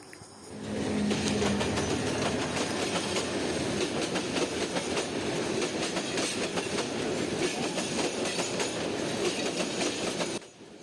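A train runs along the railway line through the Lawachara forest near Sreemangal, a loud, steady rumble of wagons with faint clickety-clack that begins within the first second and holds nearly throughout before cutting off near the end.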